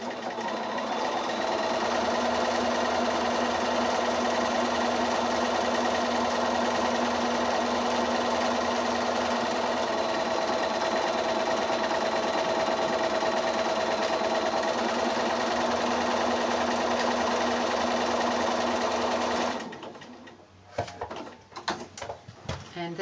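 A sewing machine stitches a buttonhole using a buttonhole foot, running steadily and loudly for about twenty seconds before stopping, followed by a few faint handling clicks.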